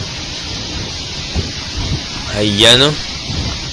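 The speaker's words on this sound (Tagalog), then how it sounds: "malakas din ang hangin at ulan" Steady broadband rush of wind and rain from Typhoon Pepito in Catanduanes throughout, with a brief voice speaking over it partway through.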